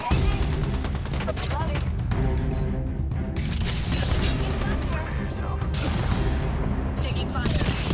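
Gunfire in Apex Legends, loud and sustained, with rapid bursts and cracking shots from both near and distant weapons. Game voice callouts and other speech are mixed in throughout.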